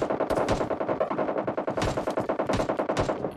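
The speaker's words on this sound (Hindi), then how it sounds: "ये देखो 2-2 स्कारल M4 चल रही है" Rapid automatic fire from SCAR and M4 assault rifles in the mobile battle royale game PUBG Mobile Lite, a dense, continuous stream of loud, close gunshots with overlapping bursts and no talking.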